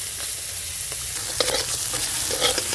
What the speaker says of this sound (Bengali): লবণ হলুদ মাখানো কাঁকড়াগুলো লাল লাল করে ভেজে নেব।